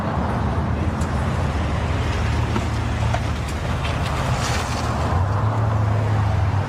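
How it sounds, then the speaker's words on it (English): Dense road traffic rumbles steadily and loudly, a continuous wash of engines and tyre noise close by with no break. "I just really couldn't hear you because of the traffic"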